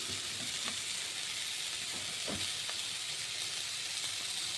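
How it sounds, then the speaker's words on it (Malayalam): Coriander leaves and a bay leaf sautéing for vegetable soup, giving a steady, close frying sizzle throughout with a few soft stirring scrapes underneath. "അതും കൂടി ഒന്ന് വഴറ്റി നന്നായി വാടി വരട്ടെ"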